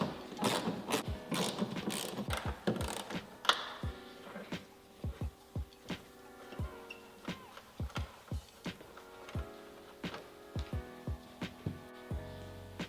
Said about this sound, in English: And then we're going to remove these 3 10mm nuts.